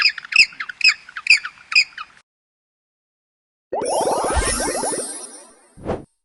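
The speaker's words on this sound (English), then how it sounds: "Penguin." A penguin gives five quick, bright honking notes in a row. After a pause comes a longer, harsh braying burst and then one short final squawk, all loud and close.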